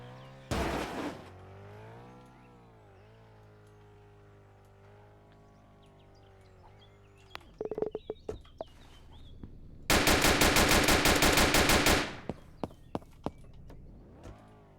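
Gunfire rings out in a crime video game, with a few scattered single shots before a loud, rapid burst of automatic fire that lasts about two seconds. Quieter engine and game noises fill the background.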